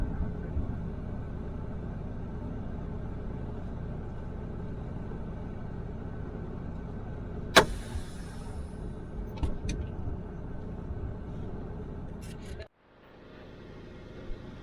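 Interior rumble of a car driving slowly while looking for parking, a steady low engine and road drone with a few clicks and bumps, then a sudden drop as the engine noise cuts out near the end.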